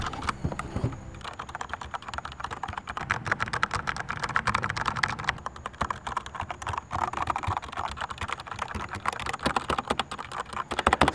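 Continuous fast typing on a Corsair K65 keyboard with Cherry MX switches fitted with O-rings, a rapid stream of close, crisp key clicks and clacks with occasional heavier strokes, no talking.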